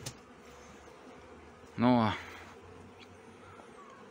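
Honeybee colonies buzz at the hive during a formic acid treatment in Brno in July, including a weaker colony; a steady low hum runs throughout while a voice briefly speaks near the middle.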